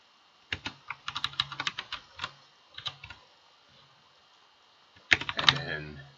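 Go code typed on a computer keyboard: a close, quick burst of key clicks, a pause with scattered taps, then another short flurry of keystrokes near the end.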